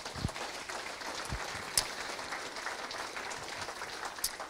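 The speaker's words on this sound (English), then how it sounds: "So Doug Rehbarger, let's give him a round of applause." Steady clapping from a crowd at a racing hall of fame induction, fairly even and continuous, heard at a moderate distance.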